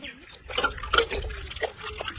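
A white cloth is rinsed in water, giving soft, close sloshing and dripping splashes in quick irregular bursts.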